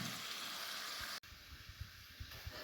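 Meat sizzles in a pan while cooking Senegalese poulet yassa, a steady soft crackling hiss with a brief break partway, quiet and close.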